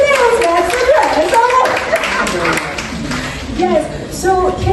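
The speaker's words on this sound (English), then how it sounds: "Yeah, you can clap for it." An audience at a women's and youth wellness summit claps steadily throughout, with a speaker talking loudly over the applause.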